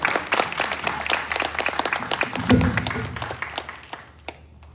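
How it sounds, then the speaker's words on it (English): An audience applauds an award recipient at the Cayce Legends Reception, dense clapping that starts loud and gradually thins and fades out over several seconds. "can you give him a round of applause"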